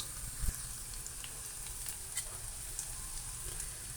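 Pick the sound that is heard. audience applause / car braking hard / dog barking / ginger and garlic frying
ginger and garlic frying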